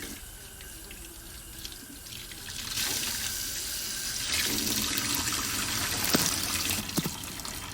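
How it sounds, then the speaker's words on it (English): A faucet in the Alfred Hitchcock's Vertigo video game turned on: water runs and splashes steadily at moderate volume after a quieter start, with small bumps and drips, no voices. "let me turn on the faucet so it'll drink"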